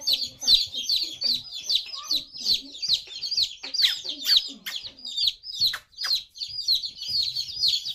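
Small baby chickens chirp and peep continuously inside a tiny coop, a dense overlapping chorus of high, rapid calls, close and fairly loud, with faint occasional sounds of a voice in the background.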